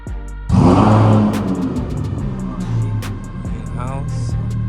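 A Lamborghini engine fires and revs up loudly in one sharp surge, then settles into a rough, throbbing idle nearby, with faint background voices.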